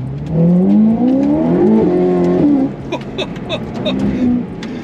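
A Ferrari 488 Pista fitted with a Novitec exhaust revs hard and close, its engine note climbing in pitch through rising sweeps, then dropping back to a rougher, choppier idle with lighter blips.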